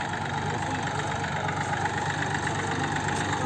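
A 4x4 tractor engine runs at a steady idle on a potato farm in Uttar Pradesh, a constant close rumble with a slight rattle throughout and no talking.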